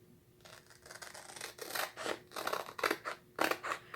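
Scissors snip through a Chalk Couture transfer sheet in a run of close, crisp cuts that grow louder and quicker toward the end, with nobody talking.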